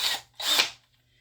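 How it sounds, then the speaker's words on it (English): Two short bursts from a power drill spinning in reverse to back out a Phillips head bit on a resin table, close and moderately loud, followed by silence. "So I'm going to need to take my drill bit back, or my Phillips head back out."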